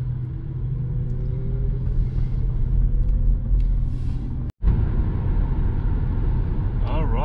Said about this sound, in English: we are cruising with cruise control on the Autobahn